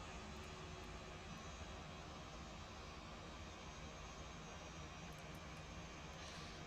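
Airbus A320 jet engines in the X-Plane 11 flight simulator, a steady, dense roar that holds evenly throughout with no voices.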